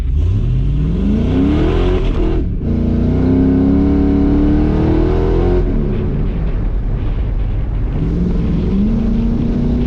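An LS-swapped Chevy S10 truck accelerates hard through rising gear pulls, its engine loud and close with a strong revving growl, a short shift break, and tire wheel hop on launch.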